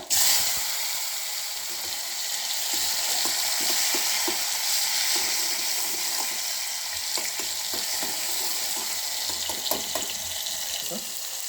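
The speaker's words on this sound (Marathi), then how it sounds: "हे बघा टमाटे असे परतू द्यायचे" Tomatoes sautéing in a pan with cumin, mustard seeds and garlic: a continuous hissing sizzle with scattered clicks and scrapes from stirring, close and fairly loud, with no one speaking.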